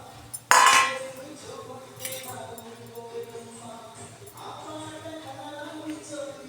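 A plate is lifted out and dishes clink together in one sharp, loud clatter near the start, followed by quieter rattling of crockery nearby.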